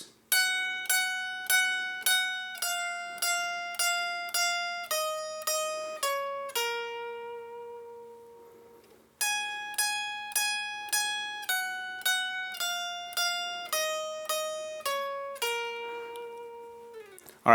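Electric lead guitar plays the hook at full speed, a clean repeated phrase of bright picked notes stepping down, each run ending on a long ringing note, the figure played twice, with no talking.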